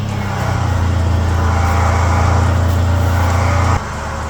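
A vehicle engine idles steadily with a loud low drone after a winch install, holding an even rumble before dropping slightly in level near the end.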